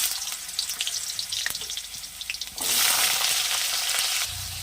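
Diced potatoes go into hot oil already sizzling with whole cumin seeds for a vegetarian banana flower curry, and the frying hiss swells abruptly into a loud, steady, close crackle.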